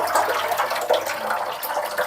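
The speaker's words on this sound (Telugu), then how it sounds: "అలా కడిగింది అయితే వడగట్టుకోవాలి వాటర్ని చూడండి" Water from freshly washed home-grown rice pours off as it is strained, a continuous splashing, gurgling flow heard close and alone for a couple of seconds.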